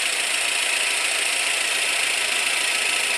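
A car engine idles during a cylinder misfire check on cylinder number one, giving a steady, fairly quiet, hissy mechanical hum with no change in pace and no talking.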